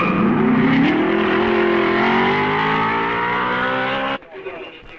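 Racing cars in the 1955 Spa Grand Prix roar past loudly, a rising engine note climbing in pitch before cutting off sharply near the end and leaving fainter engine noise, with a commentator speaking throughout.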